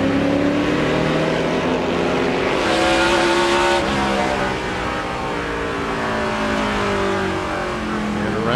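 A NASCAR stock car spins out during a 2005 race, loud engine roar with shifting pitch and a long tire squeal, other cars droning continuously under it, dense and close for several seconds.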